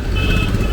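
Vehicle passing on a street in Kolkata, India, a loud close rumble of traffic with a steady high electronic beep running through it, brief and continuous.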